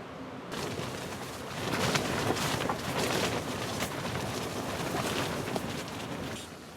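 Wind gusts across a boat on a cold, breezy day, producing a steady, rushing roar with buffeting bursts against the microphone, constant and fairly loud with no talking.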